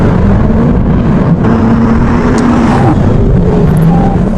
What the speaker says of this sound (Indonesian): Dia segera memacu mobilnya.